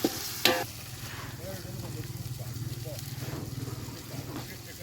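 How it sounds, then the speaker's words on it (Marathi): Onion with coriander powder, ginger-garlic paste and turmeric sizzles steadily in a pan as a spoon stirs it, the base for village-style mutton cooked over a wood-fired stove; a sharp scrape comes near the start, then a continuous soft frying hiss. "याला चांगलं आपल्याला परतून घ्यायचं आहे."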